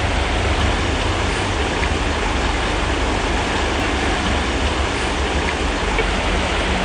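Rushing river water in the Canadian Rockies, loud and continuous as a dog crosses, a dense steady roar with no voices.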